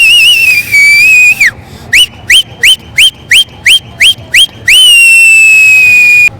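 Celebration whistling from CSK cricket fans at an IPL match rings out as a long shrill held note, then a run of short sharp rising blasts, then another long piercing tone, loud and close.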